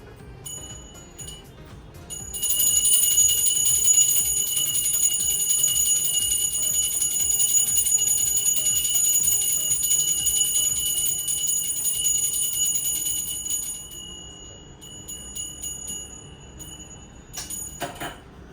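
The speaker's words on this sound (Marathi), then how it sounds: "तू घंटी वाजव." A small prayer hand bell rings continuously for about ten seconds during Holi worship, bright and steady, before stopping; a few faint clinks follow near the end.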